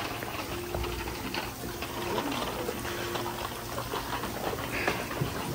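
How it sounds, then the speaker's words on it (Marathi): Water poured over plants on a strawberry farm in Taif, a steady splashing, trickling wash that runs continuously at moderate level with a faint tonal hum underneath. "आणि इराणी या इकडे सगळ्या झाडांना पाणी घालत आहे."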